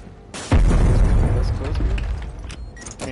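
A C4 charge detonates in a video game: one loud, sudden boom that hits hard and rolls into a long, rumbling tail, with players talking over the blast.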